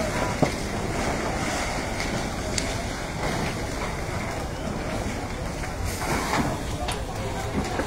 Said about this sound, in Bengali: এদিকে দিতেছে পানি ফায়ার সার্ভিস।